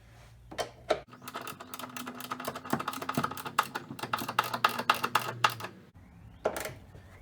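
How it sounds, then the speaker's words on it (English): A hand ratchet clicks rapidly in bursts while tightening an engine mount bolt on a car, with sharp close metallic ticks and brief pauses between runs. "Then I should be able to come in here with my ratchet and tighten it up."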